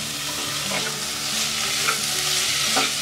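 Corn kernels sizzling and crackling in a hot pan as they are stirred, a steady fry hiss with soft scraping bursts from the stirring, close and alone without voices.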